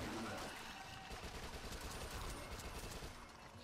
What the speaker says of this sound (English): I've got the SMG.